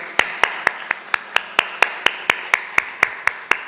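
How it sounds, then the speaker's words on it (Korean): Congregation at a Sunday church worship service claps in a steady, evenly spaced rhythm, about fifteen crisp unison claps over a few seconds, close and clear with no talking. "하나님께 영광 박수 올려드리겠습니다."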